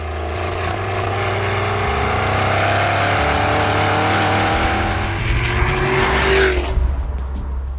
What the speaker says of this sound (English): and the extra exhaust noise.